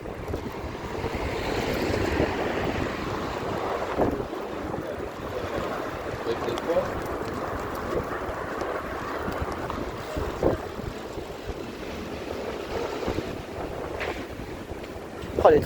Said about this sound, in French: mais il y a du vent.